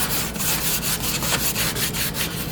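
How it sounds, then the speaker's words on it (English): Chrome oxide compound rubbed by hand onto a balsa wood strop along the grain, a steady series of close, dry scrubbing strokes repeating in an even back-and-forth rhythm. "to apply the chrome oxide, rub in line with the grain"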